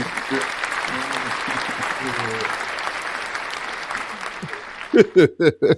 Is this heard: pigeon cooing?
no